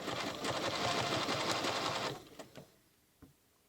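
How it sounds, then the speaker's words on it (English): A sewing machine runs steadily for about two seconds, a rapid mechanical chatter of needle strokes stitching a Baptist Fan quilt pattern along a ruler, then stops, followed by a few soft clicks and thumps. "So now we're going to stitch along that channel."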